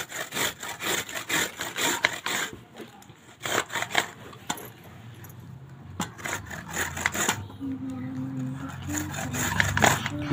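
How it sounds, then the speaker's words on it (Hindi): Amla, Indian gooseberry, rubbed against a kitchen grater in bursts of rough rasping strokes, close and fairly loud, with pauses between passes and faint background noise. "थोड़ा सा इसको हम इस तरीके से घिसते घिसना आपको।"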